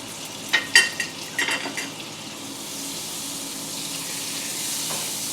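Butter goes into a hot pan after pork: a few sharp clatters and stirring sounds at first, then a steady rising sizzle, heard close with no speech.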